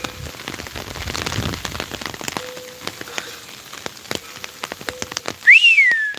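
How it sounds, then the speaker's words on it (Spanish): Rain patters steadily on a surface with scattered drops and ticks, followed near the end by a short rising whistle. "Aquí cuando no tiene que llover, llueve."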